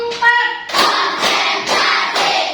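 A fifth-grade class clapping together on a teacher's counted cue, loud close bursts of claps in groups, with a voice speaking at the start.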